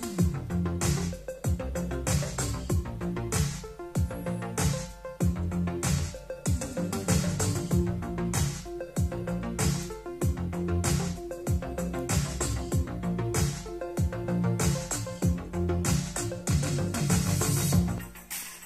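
Music plays through a Bose SoundLink Mini portable speaker, a dense, steadily pulsing track with a strong repeating beat and full bass that carries on without pause and has no talking over it.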